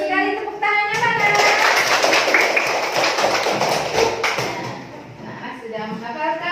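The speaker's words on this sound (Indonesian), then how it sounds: "tepuk tangannya mana?" A group of children clapping hands together in a lively, sustained burst of applause, with young voices chattering underneath before it fades.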